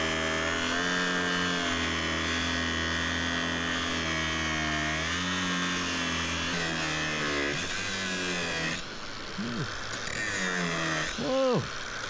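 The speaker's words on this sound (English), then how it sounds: "I need to get the grinder and just get this real low." A grinder grinds down a log for a log cabin being built on an island. Its loud, continuous high whine runs close throughout, with the pitch sagging and rising as it bites into the wood.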